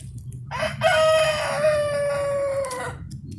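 A Lukendanji breed rooster, a small breed that lays blue eggs, gives one long loud crow close by, with faint clucking of nearby hens and farmyard murmur underneath.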